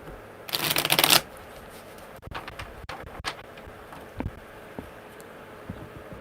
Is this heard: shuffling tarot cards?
yes